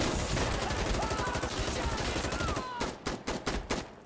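Rapid bursts of gunfire in the video game Insurgency Sandstorm, aimed at the player, rattle loudly and almost continuously for several seconds, then break into a few separate sharp shots near the end.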